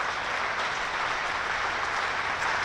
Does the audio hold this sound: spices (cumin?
no